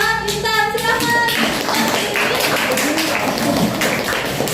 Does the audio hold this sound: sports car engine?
no